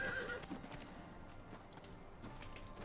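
Unicorn in Oblivion Remastered galloping and neighing, a short burst of hoof clip-clop with a whinny at the start, fairly faint against the game's background ambience.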